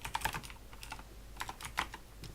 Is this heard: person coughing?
no